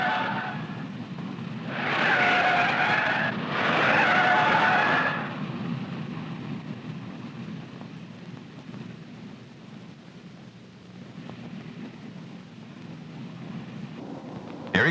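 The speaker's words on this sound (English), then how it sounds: "Just watch that car sway as he makes his turn." A 1967 NASCAR race car on nylon tires roars past twice in quick succession, tires hissing through the turn, then fades into a lower, distant engine rumble.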